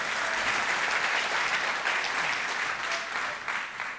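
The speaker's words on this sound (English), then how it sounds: "David, a big round of applause for David, everyone." An audience applauds a volunteer at a live talk on the neuroscience of magic, giving dense, sustained clapping from many hands that holds steady for about four seconds before easing off slightly.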